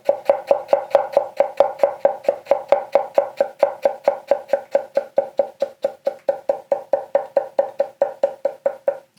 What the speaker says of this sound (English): we'll just julienne all this stuff up real quick